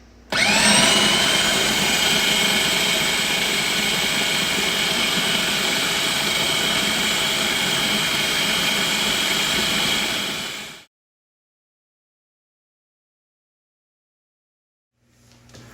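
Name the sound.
food processor blending tomatoes and vegetables on high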